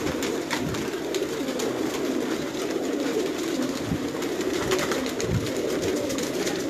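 A breeder's pigeons coo in a loft in Sialkot, a low continuous murmur of soft cooing and rustling with a few isolated thumps.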